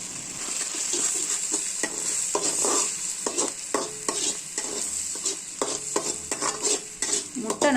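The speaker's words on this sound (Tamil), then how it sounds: "முட்டை நல்லா உதிரியாக வர்ற மாதிரி கிளறிக்கங்க." Scrambled egg for egg noodles fries in a pan while being stirred steadily, giving a continuous close sizzle broken by repeated scraping and clinking strokes, with no voices.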